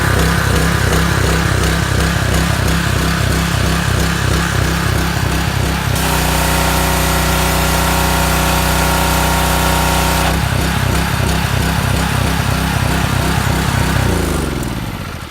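A Husqvarna pressure washer engine, just fitted with a new pump, runs loud and close with a steady mechanical drone, its pitch shifting partway through and then winding down at the end.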